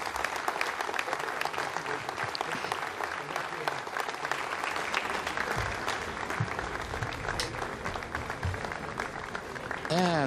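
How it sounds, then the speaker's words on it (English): Applause fills a mission control room at the Jupiter control center after the GEO-KOMPSAT-2A satellite separates from an Ariane 5 rocket, a steady wash of clapping from many people lasting throughout, with voices mixed in. "you heard the applause from the people in Jupiter"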